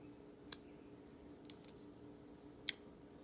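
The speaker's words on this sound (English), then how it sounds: "Clicking in, this thing makes very little noise." A CRK Umnumzaan folding knife blade locking into place, giving three faint, crisp metallic clicks spaced about a second apart over a quiet background.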